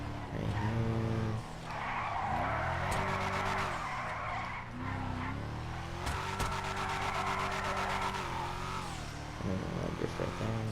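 A car drifts around a drift course, its tires skidding and squealing loudly while the engine revs and roars in steady, sustained bursts up close.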